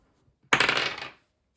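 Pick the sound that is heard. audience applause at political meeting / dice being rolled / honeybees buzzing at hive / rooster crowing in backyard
dice being rolled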